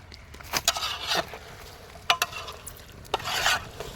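Chicken being mixed by hand with spices for a party meal, soft wet squelching and stirring with scattered sharper clatters and thumps, close and moderately quiet, with no talking.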